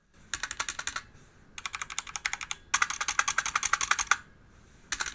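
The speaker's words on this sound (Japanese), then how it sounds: "まずスタビライザーがついてるキーはガチャガチャうるさいんですよね。" Clattery mechanical keyboard typing on a DIY aluminum-bodied board, with stabilized keys rattling noisily through fast bursts of keystrokes separated by brief pauses, close and loud.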